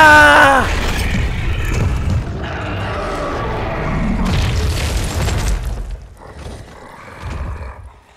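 A Boomshot explosion in Gears of War 4 hits as a loud, close boom with a roaring rumble, followed by further rumbling bursts that fade over several seconds.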